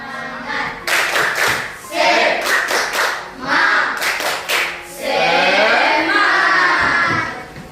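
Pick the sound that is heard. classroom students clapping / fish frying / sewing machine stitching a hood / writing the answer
classroom students clapping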